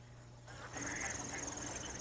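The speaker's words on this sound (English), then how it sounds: "tens of thousands of ducks that pass through Blackwater on their migrations" Dabbling ducks quacking at a freshwater wildlife refuge marsh during migration, a dense flock heard as a steady chorus of overlapping calls over constant background noise.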